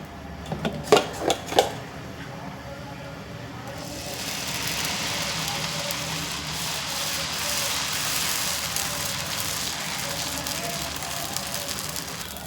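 Foxtail millet dosa batter hits a hot oiled pan and sizzles steadily and loudly, a few sharp taps sounding just before, with the hiss then holding for the rest.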